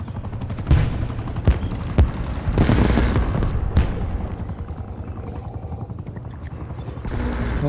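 Helicopter in a video game: a steady low rotor drone runs throughout, broken by sharp bursts of gunfire and a few booms, with no talking.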